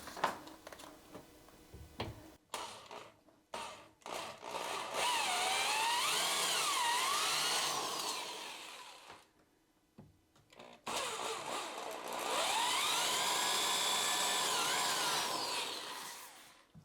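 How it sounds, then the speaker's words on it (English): A power drill spins up in two long bursts, boring depth-marked pilot holes into a cabinet for rehanging a sagging door, the motor pitch rising and falling as the bit cuts, separated by brief pauses and small handling clatters. "we've got the depth marked and we're ready to drill"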